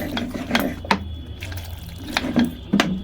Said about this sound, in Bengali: সামান্য জল দেবো, বেশি দেবো না